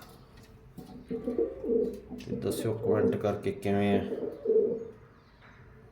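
Soft pigeon cooing rolls along beneath someone talking nearby, the birds' low throaty calls swelling in the middle before fading.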